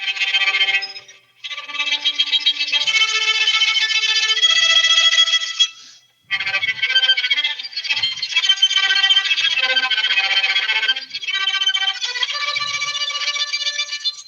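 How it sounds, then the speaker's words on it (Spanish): Violin tremolo played sul ponticello, a glassy, buzzing shimmer of rapid bow strokes near the bridge, sustained and fairly loud with one brief break in the middle. "Entonces el trémolo con sul ponticello suena así."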